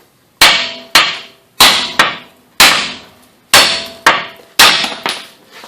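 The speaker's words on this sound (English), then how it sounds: "I'll put like another hammer right here and hit on it." Sharp metal-on-metal hammer strikes on a 2001-2005 Ford Explorer control arm ball joint, using one hammer held against it and another to hit it, about ten loud, ringing blows in an uneven rhythm.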